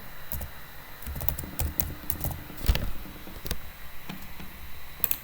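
Fingers type on a computer keyboard while writing unit test code, producing quiet, irregular clicks in short bursts with brief pauses, close and clear with no speech.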